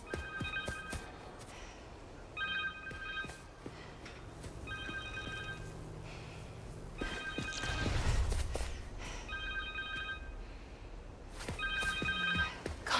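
A cell phone rings in the video game Marvel's Spider-Man 2, with short electronic ring bursts repeating about six times at a steady pace over low background rumble and scattered game sounds.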